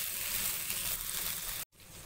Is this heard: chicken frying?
yes